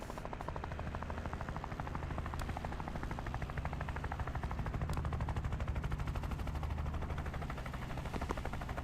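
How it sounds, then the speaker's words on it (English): Helicopter sound effect in the Tactical Breach Wizards video game, a continuous rapid rotor chop that thuds loudly and steadily for nearly nine seconds, dense and rumbling, with no voices over it. "I really don't appreciate this helicopter sound effect though"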